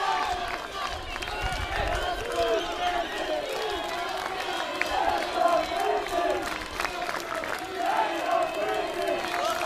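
Crowd at an NCAA Division II men's tennis team final cheering and clapping after championship point, a sustained roar with scattered shouts, heard under a commentator's voice.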